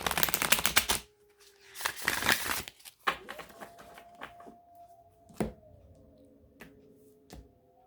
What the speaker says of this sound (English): I will just give these one quick shuffle again because they've been sitting for so long